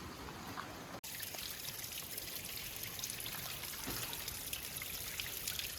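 Water runs steadily from a crack in the rock wall of Nemo Tunnel 23, a drilled and blasted tunnel, making a constant close, even wash of trickling and splashing with no pauses.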